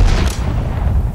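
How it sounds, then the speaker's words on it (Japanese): Artillery cannon fire in the real-time strategy game Sudden Strike 4, during the Japanese campaign's Battle of Singapore: a loud, dense, low rumbling boom that rolls on without a break, with no talk. "大砲を撃て。"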